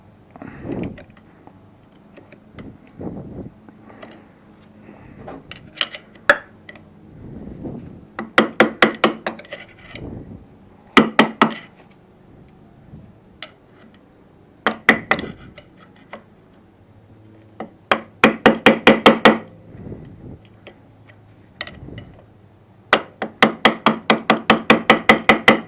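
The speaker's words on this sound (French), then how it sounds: "vous prenez un tournevis pour replier votre rondelle" Screwdriver bending a lock washer over on a Suzuki SV650 clutch during an anti-dribbling clutch install, a series of sharp metallic ticking taps in clustered bursts with quieter scraping between, close and alone.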